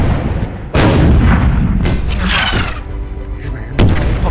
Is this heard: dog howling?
no